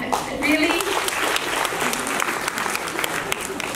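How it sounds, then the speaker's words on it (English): Loud applause from a room full of people at an International Women's Day gathering, a dense and sustained wash of clapping with faint voices and a brief tonal sound early on. "a big round of applause actually to all the men in the room"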